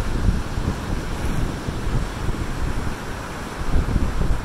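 Wind buffets the microphone at Wollongong beach in Australia as surf washes in, a loud continuous gusting rumble with rolling wave noise underneath and no voices.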